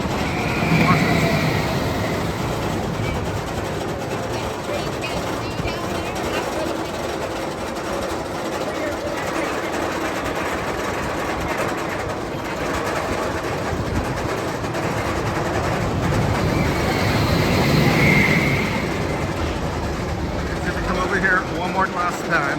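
The Flash Vertical Velocity roller coaster at Six Flags Discovery Kingdom runs with a steady loud rushing roar of wheels on track, swelling twice as the cars pass close, and someone talks over it.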